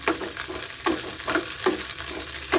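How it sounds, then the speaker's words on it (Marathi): Cluster beans (gavar) stirred in hot frying oil: a continuous close sizzle with regular spatula scrapes about every half second, no voices. "गवार टाकून थोडं मिक्स करतो तेलामध्ये बघा"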